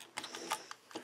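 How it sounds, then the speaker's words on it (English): A ratchet tightening a screw on the front axle of an RC MOA crawler, with a few quick faint clicks in a brief burst. "Just get my ratchet"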